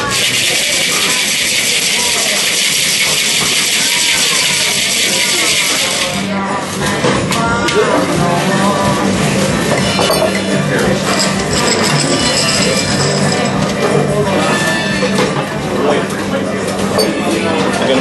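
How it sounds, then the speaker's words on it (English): Ice rattles in a cocktail shaker as a drink is shaken for a summer cocktail, a dense, fast metallic rattle that runs loud and steady for many seconds under someone talking. "there we add ice to the drink and shake it again"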